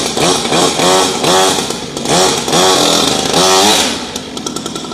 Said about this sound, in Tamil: நான் ஸ்டார்ட் பண்ணி காட்டுறேன் பாருங்களேன்.